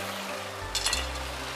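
Garlic sprouts tossed into a wok of Sichuan home-style tofu, a short burst of sizzling that flares up briefly over a low steady kitchen hum, close by, with no talk.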